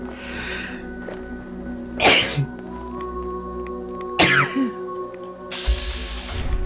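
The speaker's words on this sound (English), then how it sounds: "I think I've got to sneeze." Two loud, sharp sneezes a couple of seconds apart, close to the microphone, set against a faint game backdrop from Fallout 4's Far Harbor with a low hum and a short burst of noise near the end.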